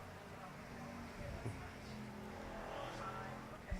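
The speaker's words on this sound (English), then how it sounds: "that is Michael Sabowski, as he brings his car off of turn number 4" A race car engine drones at Arizona Speedway as a Ford Bombers heat car comes off turn four, a steady roar moderately distant under a loudspeaker commentary voice.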